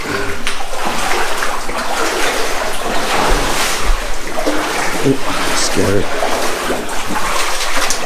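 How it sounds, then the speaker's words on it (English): Water runs and splashes inside a flooded tunnel of an abandoned Welsh silver, zinc and lead mine, a loud steady rush with sloshing footsteps, while someone speaks briefly. "Oh, too much water, man."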